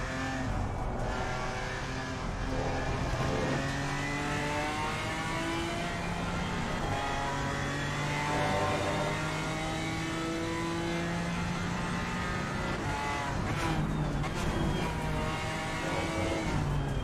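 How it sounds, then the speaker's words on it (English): Race car engine in Assetto Corsa Competizione drones steadily throughout, rising and falling in pitch as it revs through gears at racing speed, loud and continuous with no talk. "I'm not liking this engine too much, the sound"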